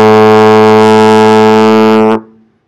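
A trombone holds a steady sustained A in second position, rich and brassy, loud and alone for about two seconds before cutting off cleanly with a short room tail.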